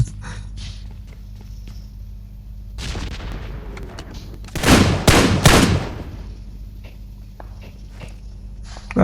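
Bursts of gunfire crackle through a video game firefight, a loud dense volley of shots around the middle followed by scattered quieter pops in the background.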